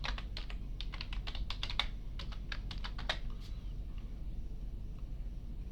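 An admin password typed on a computer keyboard: a quick, quiet run of close keystrokes in uneven bursts that trail off in the last couple of seconds, over a low background hum.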